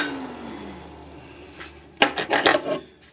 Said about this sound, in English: I'll just take a file and clean the edge of this up.